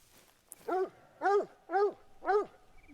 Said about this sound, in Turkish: Ha domuzdu. Ya bir şey hırladı sandım.